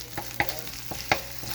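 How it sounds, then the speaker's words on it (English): Onion, garlic and tomato paste fry in a pot with a steady sizzle, broken by a few sharp scraping knocks of a spoon stirring against the bottom, close and without talk. "so we're frying"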